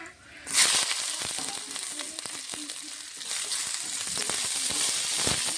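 Chopped onion dropped into hot oil with dried red chilli, cumin and nigella seeds, bursting into a loud, steady sizzle that continues with faint crackles.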